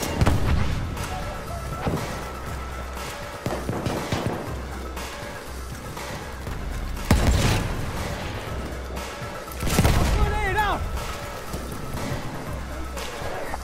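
An Automatico submachine gun fires during a Battlefield 1 match, with loud bursts of close gunfire recurring every few seconds over a constant rumble of battle noise and distant explosions.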